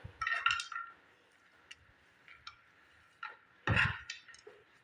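Scattered light clinks of a spoon against a bowl while fried dry fruits are stirred into an atta laddu mixture, a few sharp taps close by in a quiet room.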